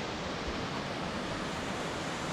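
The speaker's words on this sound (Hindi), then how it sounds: "मेरे सामने पानी की आवाज़ आप सुन सकते हैं" Water rushes at a scenic hill spot near Mussoorie, a loud, constant roar of flowing water close by with no voices over it.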